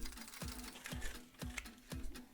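A cocktail shaker dry-shakes an espresso martini in a steady rhythmic back-and-forth, about five evenly spaced jolts with rattling, close and moderately loud; no talking.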